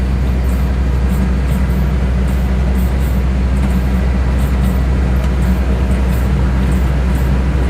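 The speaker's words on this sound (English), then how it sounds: "And of course there's a train crossing that I'm gonna be stuck behind." Loud, continuous low rumble of a train rolling past at a level crossing, steady and close, with faint rhythmic clanks on top.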